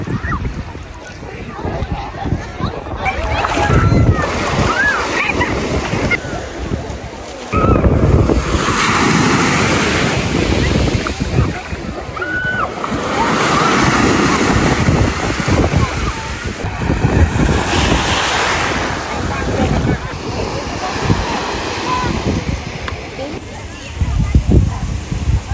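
Surf rolls onto a sandy beach on Naxos, a loud, continuous wash of breaking waves buffeted by heavy wind noise on the microphone, with someone talking over it.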